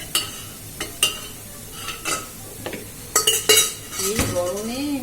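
A spoon scrapes and clinks in a pan while a home-cooked dish is stirred and browned in oil, sharp knocks repeating at uneven intervals over a faint sizzle, close and fairly loud.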